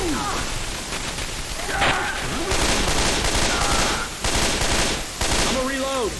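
Sustained gunfire from several weapons in the zombie shooter game Left 4 Dead 2, on a concert map; continuous loud rattling bursts with game sound effects mixed in throughout.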